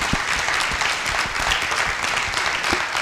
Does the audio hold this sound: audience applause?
yes